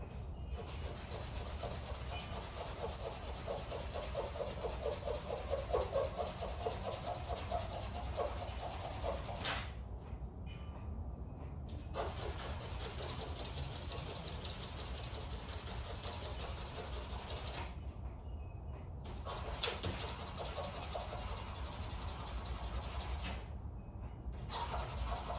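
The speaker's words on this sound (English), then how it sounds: "Let me try sanding this block a little bit more." Steady, rough rubbing of sandpaper on a small wooden flute block, sanded by hand, continuous and fairly quiet, with a few short pauses between strokes.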